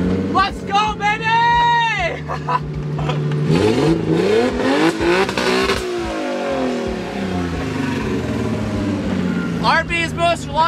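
A Nissan GT-R RB engine fitted in a Ford Mustang cranks, catches and revs hard, its loud, close roar rising and falling through several throttle blips. Excited voices shout over it at the start and again near the end.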